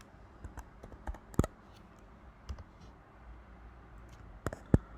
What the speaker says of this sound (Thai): เราก็พิมพ์ตัวใหญ่ นะครับ create